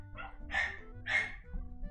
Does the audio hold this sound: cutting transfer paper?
no